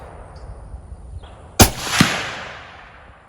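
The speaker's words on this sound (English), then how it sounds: "now we're shooting 123 grain SST with 45 grains of stay ball" A 6.5 Creedmoor rifle fires a 123 grain SST handload: one sharp, loud crack, then a second weaker report about half a second later, fading over quiet outdoor background.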